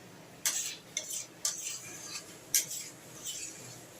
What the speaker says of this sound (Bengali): এবার কিন্তু ভালো সুন্দর করে মশলার সমেত এবার ছোলাটাকে এখানে মিশিয়ে নিতে হবে।